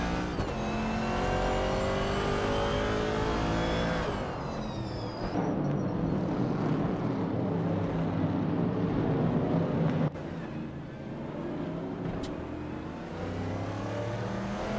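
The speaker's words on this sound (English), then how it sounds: "The vintage Trans Am class is known for its muscle car handling and power delivery, which makes for aggressive racing" Vintage Trans Am muscle cars race in a video game, engines roaring loud and steady as they rev and shift through gears. A second car's note crosses partway through, with no talk.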